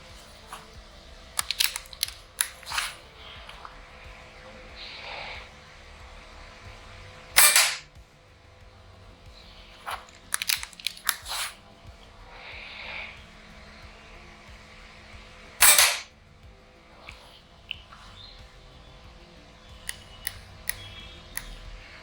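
Sharp, crisp snaps of a spring air rifle firing pellets, three main shots spaced several seconds apart, with light clicks and handling noise between them.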